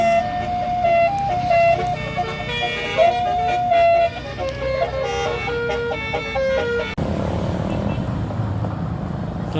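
Telolet basuri musical horn on a Moga Trans bus, loud tonal melody of stepping pitches played for several seconds, then cutting off abruptly into road and engine rumble.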